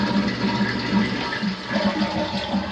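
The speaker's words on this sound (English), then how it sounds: "All the commodes are flushing." Toilets flushing in a 2000s Dallas condo bathroom, a steady rushing and gurgling of water that holds at a fairly even level through the whole stretch, close and fairly loud.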